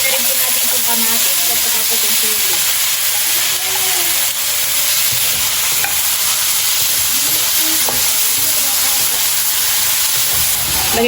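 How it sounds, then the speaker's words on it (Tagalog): Garlic and onion sauté in a hot pan with a loud, steady hiss and sizzle, punctuated by stirring scrapes, while faint talk sits underneath. "Magigisa na po tayo ng bawang at sibuyas."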